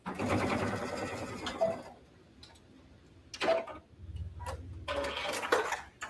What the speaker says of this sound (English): All right, so we're just sewing around these.